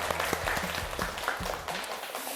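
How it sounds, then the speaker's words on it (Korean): Closing applause from the audience at a corporate talk concert, a short burst of scattered claps with some sharp individual hits, fading near the end. "다 같이 큰 박수 부탁드립니다."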